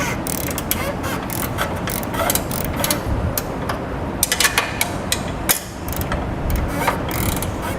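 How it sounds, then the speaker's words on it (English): A 19mm socket and wrench tightening hardware while installing a crossbar-style base plate kit on a 2018 Chevrolet, with rapid, close ratchet clicks in quick bursts and brief pauses, sounding loud and continuous. "I'm going to be using a 19mm socket and wrench."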